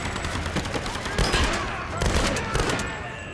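Rifle fire in the Tomb Raider video game cracks out in loud, rapid bursts of overlapping shots, with a few short pauses between volleys.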